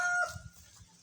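Pet chickens give a short, faint burst of clucking, quiet and close, with a brief higher call at the start and nobody speaking.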